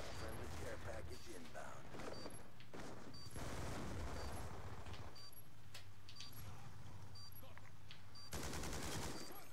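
Call of Duty Black Ops 2 gunfire in a multiplayer match: repeated sharp shot bursts and rattling volleys run throughout, with a loud sustained burst near the end, set over a steady game background.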